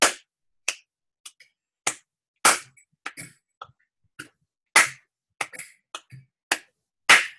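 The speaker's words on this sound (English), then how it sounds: "One clap is louder than the rest." Isolated hand claps in an uneven rhythmic pattern during intonation practice, sharp close bursts separated by silence, with several standing out louder than the others; no talking.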